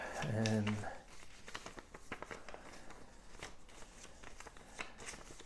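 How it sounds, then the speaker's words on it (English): Playing cards from the card game Antinomy riffle and shuffle in quick, papery bursts, followed by soft rustling and patting as the deck is handled up close. "So let's just shuffle these up."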